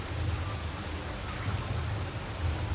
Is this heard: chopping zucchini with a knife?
no